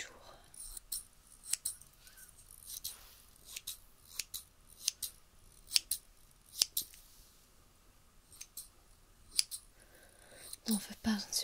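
Scissors snip repeatedly in open air in a close, quiet ASMR setting during a French Reiki session, sharp crisp clicks scattered irregularly with soft breathy sounds between.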